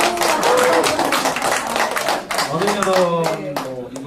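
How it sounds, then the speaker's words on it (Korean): Audience at a family-week talk concert breaking into applause, a burst of clapping from many hands with voices talking and reacting over it, close and fairly loud. "박수"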